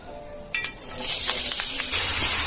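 Oil sizzles and crackles loudly in a pan as onions fry in about half a cup of oil, a steady hiss that swells and stays strong, with a few light clatters at the start.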